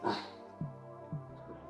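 A dog gives a few soft, short vocalizations, a whine followed by two brief low yips spaced apart, fairly quiet and close.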